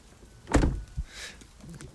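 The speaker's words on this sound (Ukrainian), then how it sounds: "це те, як зачиняються двері" A single solid thunk of a BMW E34 car door shutting close by, followed by a brief softer knock and faint rustling.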